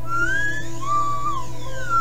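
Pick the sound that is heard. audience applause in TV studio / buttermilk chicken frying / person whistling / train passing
person whistling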